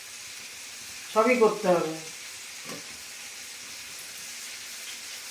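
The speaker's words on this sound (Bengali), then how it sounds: "আবার এখানে হচ্ছে পাঁপড় ভাজা হচ্ছে" Papad sizzles in hot oil in a home kitchen pan, a steady soft crackling hiss that runs throughout while a voice speaks briefly over it.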